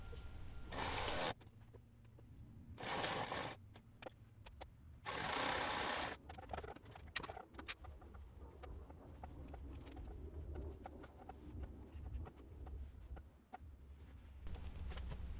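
A sewing machine stitches a sleeve seam through two layers of woven fabric, running in several short, loud bursts over the first six seconds, then quieter intermittent clicks and handling sounds.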